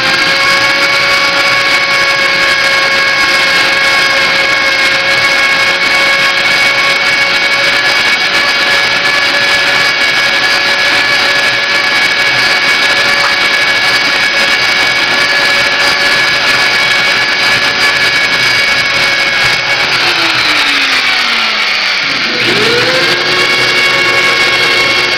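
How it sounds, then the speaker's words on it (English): A steady, loud whine with strong harmonic tones from a drill with a 7/8 inch bit boring through a sprinkler support block, briefly dropping in pitch near the end before recovering, as if the bit binds under load. "I got a 7/8 inch bit, that's what I use. You can use 7/8 or bigger, and then I take this and I drill through."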